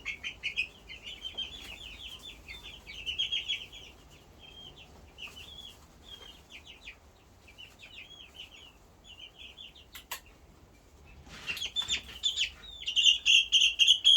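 A young chicken, probably a rooster, clucks and peeps in quick repeated bursts, joined by other chirping birds, growing louder and busier toward the end.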